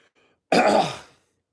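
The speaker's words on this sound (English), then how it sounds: "Let me just clear my throat here." A single, close, forceful throat clearing, one harsh rasping burst that fades out after about half a second.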